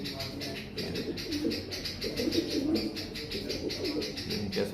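Low, throaty pigeon coos repeat softly and continuously nearby, with a faint rhythmic fluttering texture as the pigeon's body vibrates.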